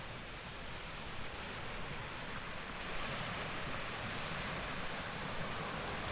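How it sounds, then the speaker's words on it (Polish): Gentle Baltic Sea waves washing onto a beach off-season, a steady broadband surf wash with mild swells and wind buffeting the microphone, continuous and fairly close with no talking. "Ale fale, tylko takie delikatne."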